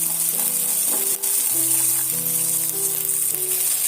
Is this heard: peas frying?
yes